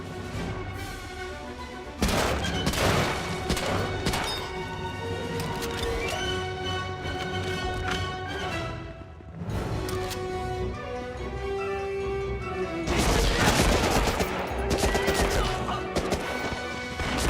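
Enemy machine gun fire in Medal of Honor: Rising Sun on hard difficulty, repeated bursts of rapid shots and crashes mixed with battle effects and music across the whole stretch.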